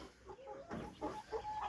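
Hybrid laying hens, recently started laying, clucking in short soft bursts close by, a few separate calls spread over a quiet farmyard background with no talk.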